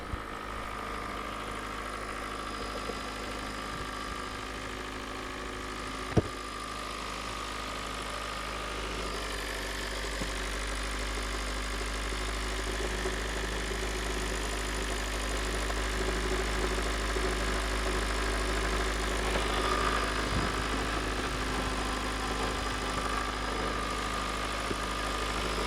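A 2019 Kia Forte with a replacement engine and a timing fault idles steadily, a continuous mid-pitched hum with faint ticking and vibration, one sharp click partway through and no talking.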